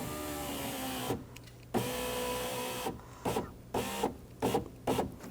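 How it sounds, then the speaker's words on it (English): Electric power window motor on a 2007-2013 BMW X5 lowering the rear window, a steady mechanical whir heard close up in several short runs separated by pauses, with no talking. "I'm just going to lower the window."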